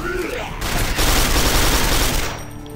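Rapid sustained machine gun fire in the PC shooter Quake 4, a dense, loud continuous burst of gunshots filling nearly three seconds before tapering off.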